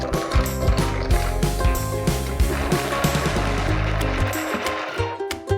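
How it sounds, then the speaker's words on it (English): A food processor blitzes milk and dark chocolate for a ganache tart, a continuous close rattling, whirring chop with rhythmic knocks. "I'm just going to blitz up the milk and dark chocolate in the food processor."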